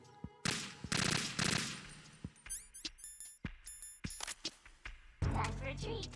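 Gunfire in the video game Metal Gear Solid 2 bursts out in sharp, rapid volleys separated by short gaps, with scattered clicks and squeaky game effects in between.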